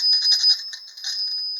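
Small bell on the tender of a Hafner windup toy train rings repeatedly as a trackside bar swings up and strikes it, giving a bright, close, continuous metallic ringing with no talk.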